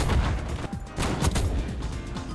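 Rapid gunfire bursts in a Call of Duty match, loud and dense with rattling shots and booms stacking over each other across the whole moment, no talking.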